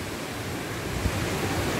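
Water splashing at the Grojogan Sewu waterfall in Karanganyar, Central Java, Indonesia, heard as a steady, broad rushing roar with no breaks and no voices.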